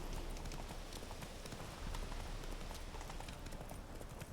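Geralt's horse Roach galloping in The Witcher 3 video game, a steady rapid clip-clop of hooves, faint and continuous under a diffuse noisy backdrop.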